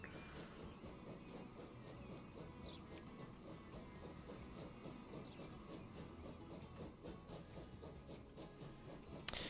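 Trains strain uphill in the Transport Fever 2 video game, a continuous low rumble with rhythmic clattering and faint hiss, steady and moderately quiet throughout.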